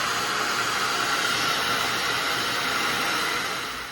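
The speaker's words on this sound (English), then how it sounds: "Take your dryer, boom." A hair dryer blows steadily at close range, a loud continuous airy roar that holds for the whole stretch and eases off slightly at the end.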